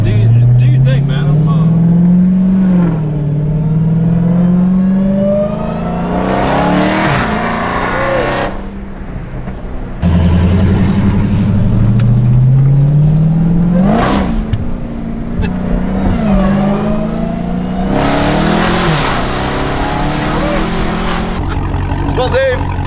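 A 900-horsepower open-wheel Indianapolis race car engine revs hard and loud, climbing in pitch in two long sweeping pulls with sharp throttle blips between them, while people talk nearby.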